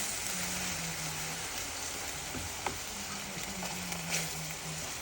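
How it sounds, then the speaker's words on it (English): Taco meat browning in a pan, a steady close sizzle and crackle with occasional sharper pops and a clink of a utensil stirring, no talk over it. "we just browned the taco seasoning, the taco meat"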